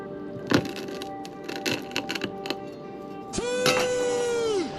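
A chilled Kinder Bueno Dubai chocolate bar snaps with a few sharp close cracks, followed by a sustained ringing tone near the end.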